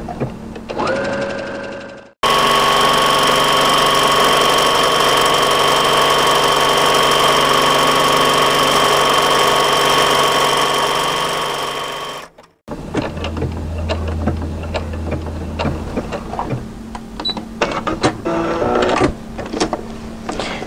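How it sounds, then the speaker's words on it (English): A sewing machine runs steadily for about ten seconds, stitching buttonholes on a cross-back apron. It is loud and close, then stops, leaving handling noises. "go ahead and buttonhole these"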